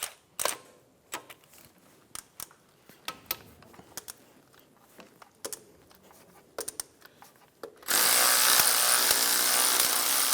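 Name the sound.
14mm socket ratchet removing alternator bolt, Infiniti G35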